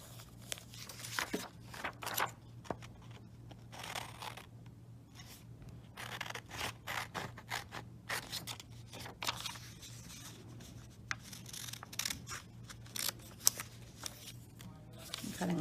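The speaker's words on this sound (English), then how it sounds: "so you can see I'm cutting along the solid lines" Scissors cut paper along solid lines in quiet, irregular bursts of crisp snips and rustling, close by and continuing for the whole stretch over a faint steady hum.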